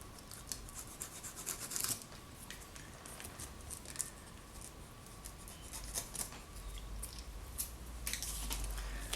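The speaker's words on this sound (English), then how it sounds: "So you have these strings here, which I'm going to cut off now because we're not going to use them for the new case." Old binding cords are cut away from a book board with scissors, giving soft, close snipping and rubbing sounds in an irregular rhythm with quiet scraping between cuts.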